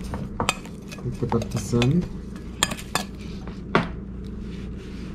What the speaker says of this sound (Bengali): প্রথমে এটাকে চামচ দিয়ে মিন্টটাকে একটু স্ম্যাশ করে নিতে হবে